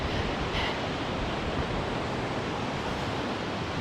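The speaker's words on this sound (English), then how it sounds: "Ooh, I'm losing balance and the wind is not helping." Wind blows hard outdoors, a constant loud rushing roar buffeting the microphone for a few seconds without pause or speech.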